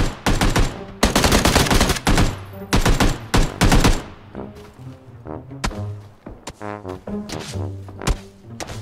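Loud gunfire in the video game PUBG Battlegrounds, dense close bursts of rapid automatic shots followed by sparser single shots and impacts as the fight continues.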